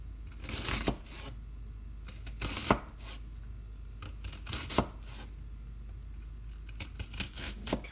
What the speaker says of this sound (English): if you want the food to appear more attractive, chop the food